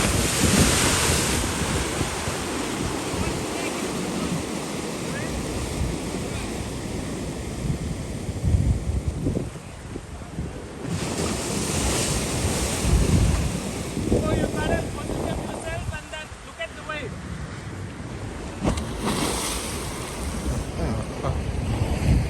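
Ocean waves surging and breaking on the beach at Arugam Bay, a continuous wash of surf with rising crashes and heavy wind rumble on the microphone, no clear talk.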